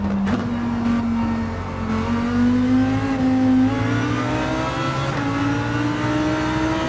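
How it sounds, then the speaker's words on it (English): A Lamborghini GT3 race car accelerates hard in a racing video game, its engine note climbing steadily through repeated upshifts, loud and continuous with no talk over it. "we're gonna out-accelerate here the Nissan, the GTR Nismo GT3, 2018 GT3 car"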